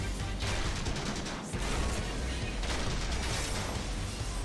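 Gunfire on a fire command, a loud dense volley of rapid overlapping shots filling the whole span, with a brief dip before the crackling barrage resumes at full strength.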